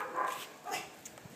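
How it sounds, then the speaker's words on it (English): A husky dog gives two short, faint barks or yips in quick succession at a distance, with low background noise around them. "Kyle and Kirby the Husky"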